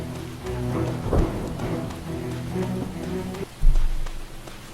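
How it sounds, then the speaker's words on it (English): Rain falls in the online game Pirates of the Caribbean Online, a steady patter under a layered background of game music and ambience, with a short thump near the end. "This rain effect is really nice too."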